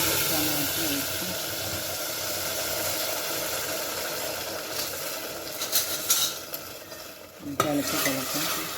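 Tomato frying with cumin and spices in a pan for mater paneer, a steady sizzling hiss with a few louder stirring scrapes toward the end, close and continuous.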